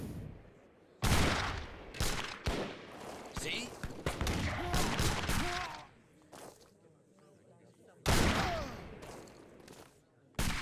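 Musket volleys crackle in an Age of Empires battle during an Italy rush, with repeated loud bursts of gunfire across the clip mixed with game effects; a few sharp shots stand out near the start and again later on.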